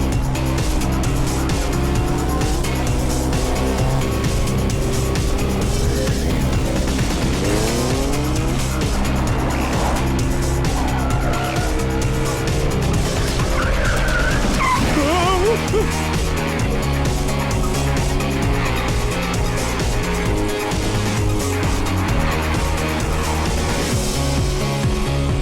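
A car in an action horror film drives hard and loud, its tires squealing and skidding repeatedly over a constant engine roar, with no clear talking.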